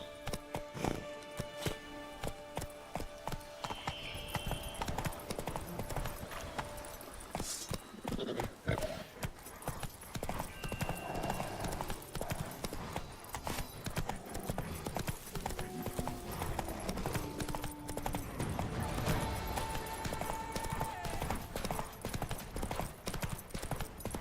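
Horse hooves clip-clop steadily at a gallop in The Witcher 3, a loud rhythmic drumming that runs the whole time over busy game music and ambient effects, with an occasional snort or whinny.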